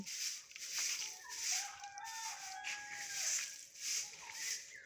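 Chickens and their chicks in a chicken house, heard as repeated soft clucks and chirps. Faint peeping calls sound near the listener over a quiet background.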